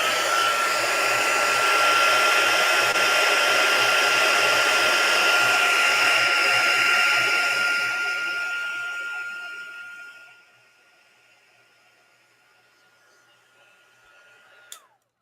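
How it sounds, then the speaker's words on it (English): A handheld heat embossing tool blows hot air in a steady, loud whir with a faint tone, running for about ten seconds before being switched off and winding down to quiet. "Then I'm going to take my heat embossing tool."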